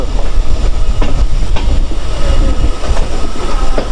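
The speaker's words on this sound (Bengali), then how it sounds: "আমাদের ট্রেন সামনে টানেলে ঢুকছে" A passenger train rumbles heavily along hill-country track toward a tunnel, its wheels clattering in a loud, rhythmic clickety-clack over a dense, close roar.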